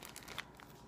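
Thin plastic bag wrapping a Japanese cherry blossom cake on a small tray crinkles softly in short, close bursts, with one sharper crackle partway through.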